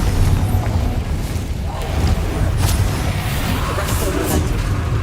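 Incendio fire spell cast in the video game Hogwarts Legacy: a dense, roaring burst of flame with deep booming rumble that sustains for several seconds, loud and close, with scattered crackles layered over the low roar.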